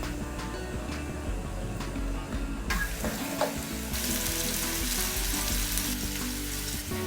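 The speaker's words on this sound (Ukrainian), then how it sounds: "Також поставила смажитися цибульку" Steady crackling sizzle of onions frying in a pan, continuous and close, with running water mixed in.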